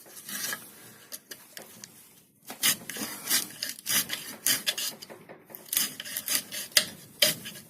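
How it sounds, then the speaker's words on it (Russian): Hand sawing and fitting a wooden sheath for a Yakut knife, giving irregular rasping, scraping strokes close up in short bursts with brief pauses, with no talking. "пилим, как бы подгоняем потихонечку, не спеша"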